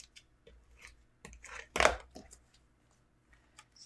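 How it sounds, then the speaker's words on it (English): Scissors cutting a paper card in half for a DIY Valentine's card, with a few quiet snips followed by one louder, longer crunching cut close by and a couple of soft trailing snips. "we cut it in half"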